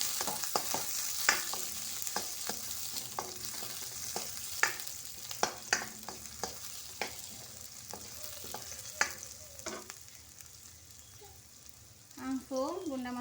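Chili sizzling as it fries in a pan for an Aceh-style anchovy sambal with chayote shoots, with repeated sharp scrapes and knocks of stirring over a steady hiss, near and alone.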